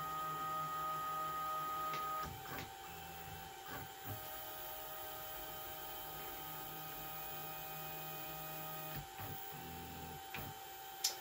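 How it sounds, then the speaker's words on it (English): A Grbl CNC machine run by an ESP32 rehomes and runs a simulated job, giving stepper-motor whines and tones that start and stop, with small clicks between moves, quiet and without voices. "I'll rehome the entire machine and run a simulated job."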